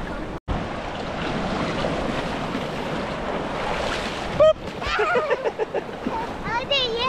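Ocean surf washes steadily on a beach, a broad wind-blown rush of breaking waves, with children's voices and chatter cutting in over the water toward the end.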